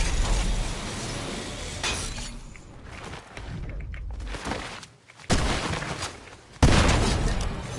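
Shotgun blasts in a video game ring out as a few loud, sharp bursts spread across several seconds over dense, steady game noise.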